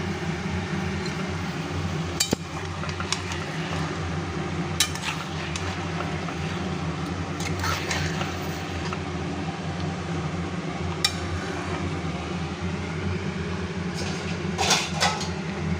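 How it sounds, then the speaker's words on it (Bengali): Mutton with turmeric being stirred in a pot, then covered: scraping utensil clatter and scattered sharp metallic knocks over a steady low hiss, ending with a lid set down. "এবার আমি এটা একটু নাড়াচাড়া করে ঢাকা দিয়ে দেব"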